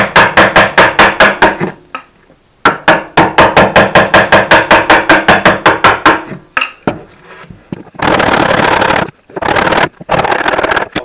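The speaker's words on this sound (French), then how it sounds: "Il suffit de basculer un tout petit peu le ciseau vers l'arrière et on peut suivre le" A chisel struck into timber while building a wooden shelter gives rapid runs of sharp, loud wooden knocks, each burst about two seconds long. Closer, denser scraping and cutting bursts follow near the end.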